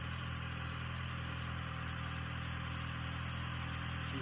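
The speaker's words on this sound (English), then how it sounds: "She idles good." A Mopar car engine idles smoothly and steadily, with the AC compressor running, a close, even hum and whir that holds without change throughout.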